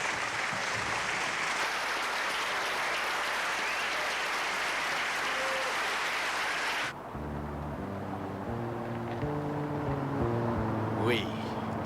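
Theatre audience applauding after a performance: a dense roar of clapping that cuts off abruptly partway through, giving way to quieter music with voices speaking over it.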